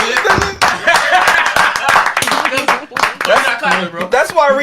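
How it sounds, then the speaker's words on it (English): A crowd claps for a guest named Rima, a brisk run of overlapping hand claps close by that carries on under steady talking voices. "Yo, let's clap it up for"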